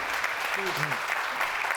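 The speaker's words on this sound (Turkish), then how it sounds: "Kocaman alkış benim sevgili arkadaşıma." A studio audience on a live Turkish TV cooking show gives steady, dense applause. It sounds fairly close and continuous, with a brief voice murmuring beneath it.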